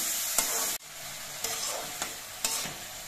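Red Malabar spinach seeds fry in oil, a steady close sizzle broken by a few soft scraping stirs of a spatula in the pan, with no voices.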